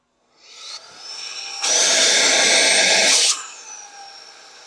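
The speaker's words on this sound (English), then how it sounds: "So we're going to turn the unit on." A cordless electric compressed-air duster and keyboard cleaner rated at 12000 RPM whirs up close, with a softer start followed by a loud, steady high-pitched whine for about a second and a half that then cuts back to a quieter hum.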